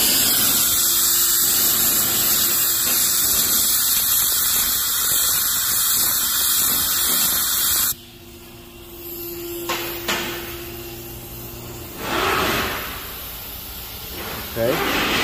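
Compressed air hisses loudly and continuously while blowing lubricant through 2020-and-up Ford Explorer parts, then stops and returns in shorter blasts, with someone talking in between.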